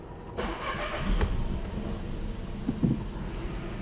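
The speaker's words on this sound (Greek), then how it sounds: "τώρα θα βάλουμε μπρος το αυτοκίνητο" A 2015 Seat Leon's engine starts with a sudden burst of cranking, then settles into a steady, close idle rumble that continues to the end, with no voices.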